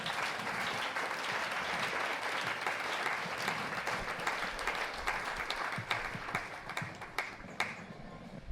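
A church congregation claps and applauds at full strength for several seconds, a dense steady wash of hands that thins slightly toward the end, with scattered sharper claps standing out.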